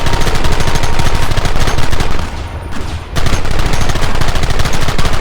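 Red Dead Redemption gun battle on PC, with loud dense rapid-fire shooting, a brief dip in the middle, then sustained volleys resuming at full intensity.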